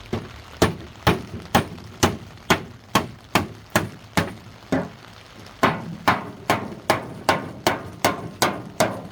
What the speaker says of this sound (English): Because I hit it with a hammer.